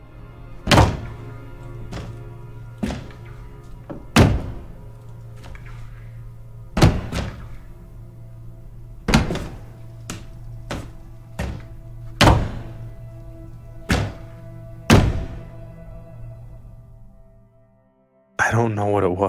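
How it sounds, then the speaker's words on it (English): Loud, heavy thuds strike again and again at irregular intervals, about a dozen impacts, like bodies thrown against walls from outside, each with a short ringing decay over a steady low hum. "It sounded like people throwing themselves against the walls from the outside."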